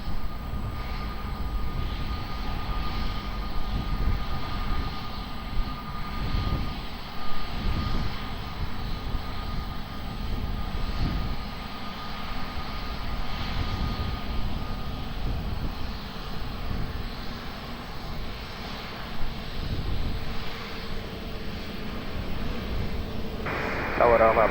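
A Turkish Airlines jet taking off from runway 20 at Lisbon Airport, its engines a steady distant roar throughout, with tower radio chatter over it.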